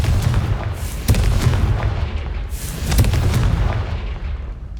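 Repeated Confringo blasting spell explosions in the Hogwarts Legacy video game: loud booming bursts with broad crackling impacts about every second or two over a continuous low rumble, no talk.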